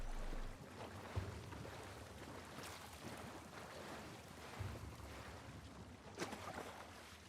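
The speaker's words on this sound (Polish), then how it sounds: "Woda jest za głośna." Loud flowing water in The Last of Us Part 1 video game, a constant rushing wash with surging swells and occasional splashy bursts, filling the scene without any speech.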